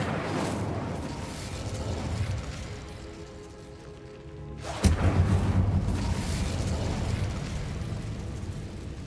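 Incendio fire spell cast in the Hogwarts Legacy video game inside a decayed catacomb, a sudden whooshing burst of flame that erupts sharply after a quieter lull, then a sustained crackling roar fading slowly.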